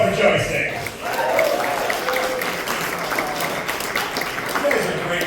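Applause from a comedy show audience in Erie continues as a comedian takes the stage, steady clapping with a host's voice speaking over it.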